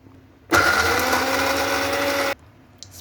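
An electric grinder whirs steadily for nearly two seconds while grinding carrots for a chicken hotdog mix, starting abruptly and stopping sharply, loud and close against a quiet kitchen.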